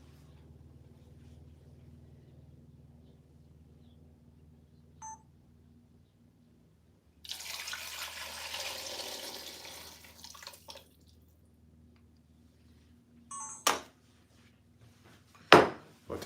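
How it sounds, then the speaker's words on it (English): Water splashes into a pot of Egyptian-style stuffed eggplant (mahshi) for about three seconds in a quiet kitchen, followed by a few sharp clinks and knocks. "But to add some more water,"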